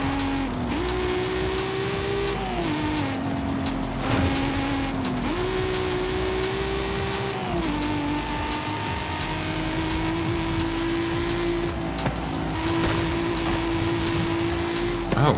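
Engine of a Pagani Zonda in Oreo livery in Forza Horizon 5: a loud, sustained engine drone that rises in pitch and drops back with each gear change, with faint tire squeal and a voice talking over it.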